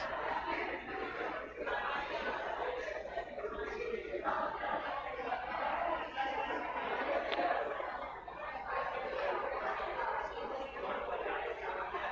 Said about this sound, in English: I'm glad everyone was chatting away there.